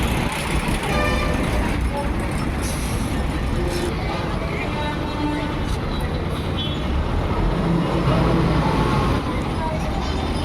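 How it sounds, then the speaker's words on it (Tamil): Busy bus stand with a new low-floor city bus among heavy traffic: dense engine rumble, honking and crowd chatter run continuously and loud, with voices talking throughout. "புதிய தாழ்த்தள பேருந்து"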